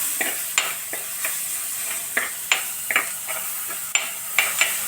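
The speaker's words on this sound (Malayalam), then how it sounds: "ചതച്ച് വെച്ചിരിക്കുന്ന ഇഞ്ചി വെളുത്തുള്ളി മുള പച്ചമുളകിൻ്റെ പേസ്റ്റ് ഇട്ട് കൊടുക്കുവാണേ ഇനി നമുക്ക് ജസ്റ്റ് ഒന്ന് ഇളക്കി കൊടുക്കാം" Crushed ginger, garlic and green chilli paste is stirred into onions frying for a Kerala fish curry, with a steady sizzle broken by about a dozen crisp, evenly spaced spoon scrapes and taps against the pan, no talk.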